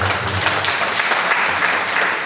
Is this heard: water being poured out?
no